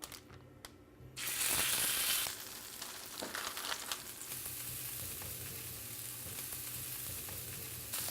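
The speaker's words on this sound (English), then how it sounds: "let's go to the stove and start cooking them up" Shrimp and scallop burgers hit hot grapeseed oil in a pan on the stove, bursting into a loud sizzle that settles into a steady frying crackle with occasional pops and stirring noises.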